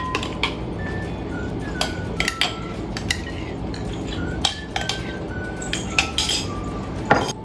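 Spoon or utensil clinking and scraping against a bowl while mixing yeast into dough ingredients, with irregular light clinks and taps close by over a steady background hum, no talking.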